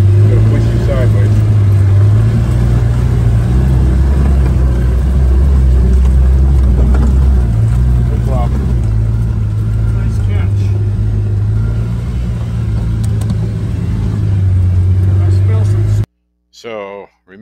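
A four-wheel-drive Jeep grinds along in low gear on a rough, bumpy track near Talkeetna Heights, a steady loud low engine rumble running continuously with clattering and jostling on top until it cuts off near the end.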